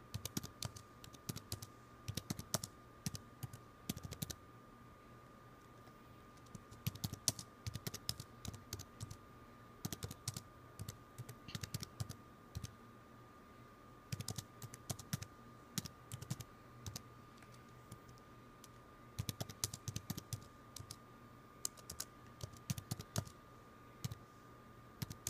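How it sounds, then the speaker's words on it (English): Quiet, close typing on a computer keyboard, with irregular bursts of rapid key clicks separated by short pauses over about twenty-five seconds, with a faint steady electronic hum beneath. "I'm typing random things, so sorry."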